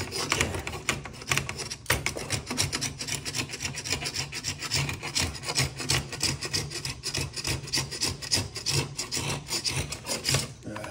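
A Nicholson wood file works along the sides of a wooden bow with steady, rapid back-and-forth rasping strokes, close and continuous throughout, with no talking.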